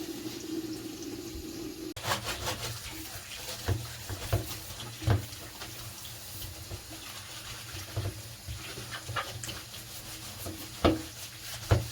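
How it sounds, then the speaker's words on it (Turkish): Tap water runs steadily while a red tray from a canary cage is washed in a sink, with a continuous close splashing wash and scattered clunks and knocks of the tray, no talk. "En sonda şu kırmızı tabyayı yıkayacağız."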